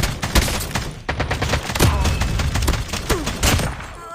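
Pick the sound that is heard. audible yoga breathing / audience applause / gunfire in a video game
gunfire in a video game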